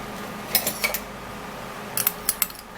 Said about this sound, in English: And now I would have to give it a stir.